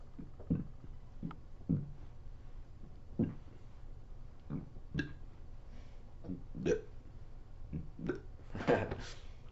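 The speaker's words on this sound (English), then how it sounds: "So I just burp it out" A person burps repeatedly during a warm-up, producing a series of short, throaty belches and gulping sounds spaced about a second apart, fairly quiet and close.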